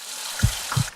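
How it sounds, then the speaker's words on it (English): A short burst of water splashes from a tap, with two quick gushes against a faint background hiss. "I turn the water on and off until I stop getting anxious"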